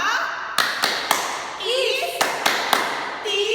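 Children at a Sunday school service clap a patterned 'tepuk istimewa' routine, sharp claps spaced in rhythmic groups with a voice speaking and singing between the beats.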